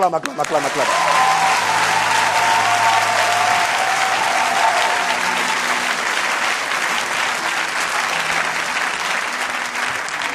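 Loud congregation applause fills a church during a sermon, steady clapping sustained for about ten seconds, with scattered voices and cheers mixed into the crowd noise.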